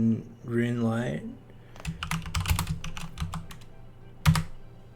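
Rapid keystrokes on a computer keyboard clatter in a quick burst after a short spoken phrase, with a final louder tap at the end.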